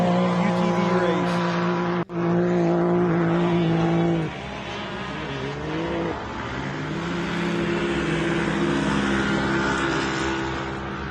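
A Can-Am UTV race car roars steadily past at a live off-road event, loud continuous engine drone with pitch shifts as it goes by, a brief dropout near the start, crowd-level background throughout.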